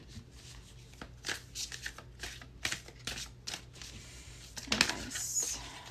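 Tarot cards are shuffled and handled close to the microphone in quick rustling riffles and soft flicks, with a sharper snap near the end and no talking.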